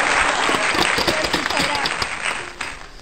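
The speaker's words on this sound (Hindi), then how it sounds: "तालियां हो जाए भाई" Children and adults applaud the winner of a memory game at home, a dense burst of clapping with voices mixed in, fading toward the end.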